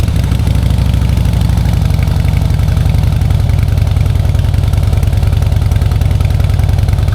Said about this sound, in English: it's also a great sounding engine.